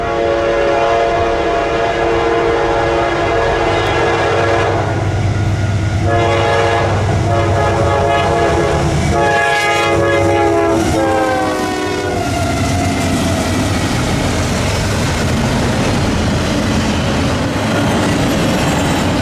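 A Norfolk Southern freight train with a Union Pacific locomotive passes close and loud at Ogden Dunes, its horn blaring in several long blasts over steady wheel and rail noise before the horn stops and the cars keep rumbling by.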